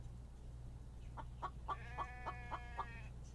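A female chicken in a survival video game clucks in a steady run of about seven evenly spaced clucks, soft and clear over a low constant hum, with no talking.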